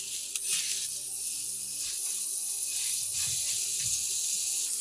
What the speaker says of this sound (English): Get a good sear on the one side.